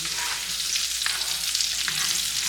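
A thick New York strip steak sizzles loudly in a pan while being basted, a dense continuous crackle with a few sharper spits and pops, and no talk.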